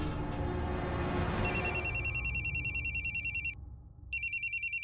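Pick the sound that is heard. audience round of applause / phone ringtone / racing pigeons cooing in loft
phone ringtone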